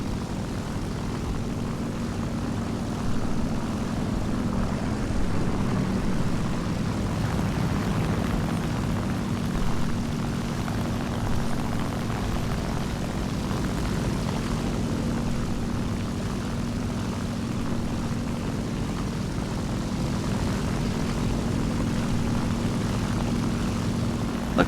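A Hawker Typhoon propeller aircraft in the War Thunder video game drones continuously, a loud, even engine roar with no voices over it.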